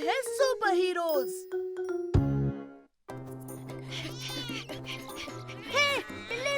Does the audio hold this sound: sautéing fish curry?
no